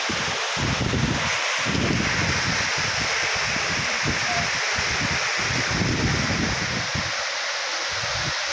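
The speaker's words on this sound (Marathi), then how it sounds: "इथं इतका मोठा पाऊस चालू आहे" Heavy rain pours outdoors in a dense, constant roar, with low gusty wind buffeting the microphone throughout.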